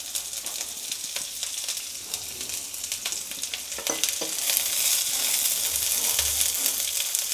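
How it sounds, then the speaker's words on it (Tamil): Pirandai (adamant creeper) is added to hot oil and fries with a steady, close sizzle. It swells louder and fuller partway through, with scattered crackles and soft stirring scrapes. "அந்த பெரண்டையை அப்படியே இந்த எண்ணெயில் சேர்த்துக்கோங்க."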